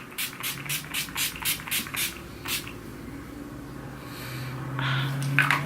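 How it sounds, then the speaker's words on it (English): Urban Decay All Nighter setting spray is misted onto a face in about nine short, sharp pumps in a quick rhythm, close and clear. Softer rustling follows. "now what I'm gonna do is set my face with the Urban Decay All Nighter"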